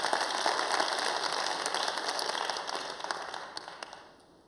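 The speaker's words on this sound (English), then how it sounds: "More applause, I think, more applause." Fairly faint applause from a crowd, a dense patter of clapping that thins and fades toward the end.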